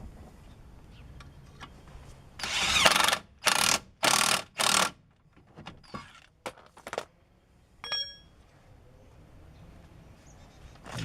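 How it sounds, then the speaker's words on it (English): A closed-end wrench tightens an axle bolt during a Mazda 626 axle replacement, with a burst of loud, rapid ratcheting clicks in several short bursts followed by scattered metallic taps and knocks at close range. "And then I just put my close end wrench. Get that nice and snug."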